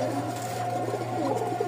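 Rajshahi Giribaj pigeons coo softly and steadily at close range, a low murmuring call sustained through the moment with no talking over it.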